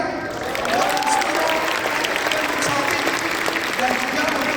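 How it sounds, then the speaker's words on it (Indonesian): Audience at a national conference breaking into lively sustained applause, a dense crowd of clapping heard throughout. "berikan tepuk tangan yang sangat meriah"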